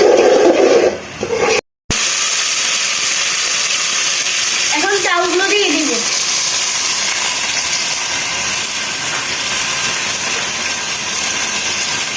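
Onion dropped into hot oil in a pan sets off a loud, steady sizzling hiss that continues to the end, with a brief voice-like sound partway through.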